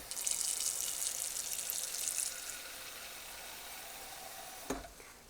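Frozen corn, peas and mixed vegetables sizzle and crackle in a very big pan on the stove, a steady close frying hiss that eases slightly, with a brief clunk near the end.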